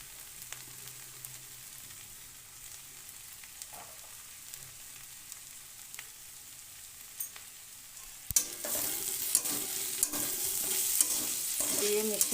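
Bitter gourd fries in a pan as coriander powder and chili flakes are stirred in, quiet at first with faint scrapes, then a louder sizzle and clattering spatula strokes take over for the last few seconds.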